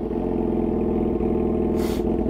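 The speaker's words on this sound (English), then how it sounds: "we're gonna get a startup of this bike for you guys, because it has a new exhaust, so it sounds pretty good" A 2017 Yamaha R6 sport motorcycle with a new exhaust runs close by, giving a loud, steady engine drone with a brief airy hiss near the end.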